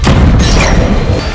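Gunfire in a Deadpool movie action scene: a loud deep boom with a heavy thud and crashing tail, one close blast filling the short moment.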